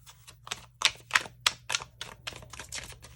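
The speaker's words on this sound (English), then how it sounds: "we're going to do one more shuffle here" Tarot cards being shuffled by hand close up, giving a rapid, uneven run of crisp clicks and slaps that lasts several seconds over faint background hum.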